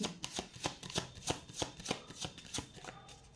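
Tarot cards are shuffled by hand in a quiet room, a rapid run of crisp riffling flicks and soft slaps in an even rhythm, close and fairly faint, with no talking.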